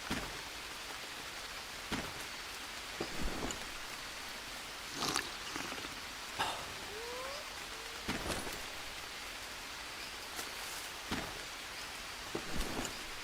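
Steady rainfall in a jungle survival video game patters on a surface, with scattered louder drop hits and faint creature sounds, no talking.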